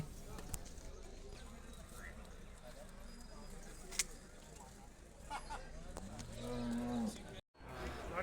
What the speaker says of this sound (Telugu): ఈ వారం మార్కెట్కు పొంగనూరు ఆవులు వచ్చినవి చూడొచ్చు